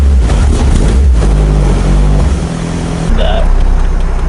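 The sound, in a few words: Mazda Miata NB 1.8 liter car driving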